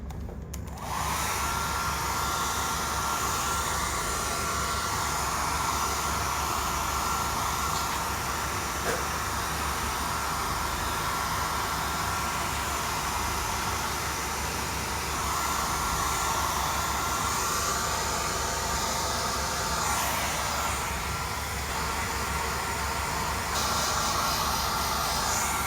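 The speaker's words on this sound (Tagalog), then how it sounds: "Blower lang men." A blower runs steadily and loudly for the whole stretch, a constant airy roar with a broad hiss. Apart from small shifts in tone, it stays unbroken and alone.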